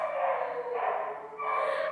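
Several dogs bark in a home setting, a dense run of sharp, fairly loud barks overlapping one another for the full two seconds with a brief dip in the middle.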